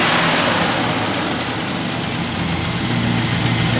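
A 1968 Chevrolet Chevelle with a big block engine running on pump gas idles close by, a steady, loud, low rumble throughout with no talk.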